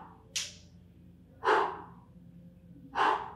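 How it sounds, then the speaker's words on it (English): Three sharp, close breaths during a kettlebell static hold, each a quick forceful exhale spaced about a second and a half apart against quiet background. "Keep breathing, never holding your breath with any of these movements."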